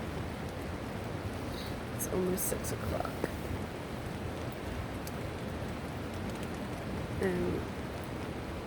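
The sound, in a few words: heavy rain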